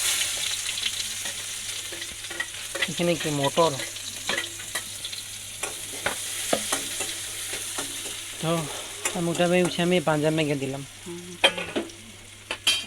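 Potatoes frying in oil for aloo bhaja, a steady sizzle with frequent stirring and scraping in the pan while people talk over it nearby.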